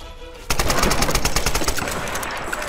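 Rapid machine gun fire in the video game Tomb Raider 2013, a loud, dense burst of automatic shots that starts abruptly and continues without pause.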